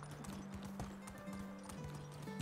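Horse hooves clip-clopping at a steady ridden pace in the medieval game Medieval Dynasty, a continuous near rhythm with a brief whinny and faint game ambience, no talk.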